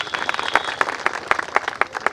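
A crowd at a Hindi poetry gathering in Pilibhit claps for a poet, a lively, close burst of many hands with sharp, irregular slaps and no voices.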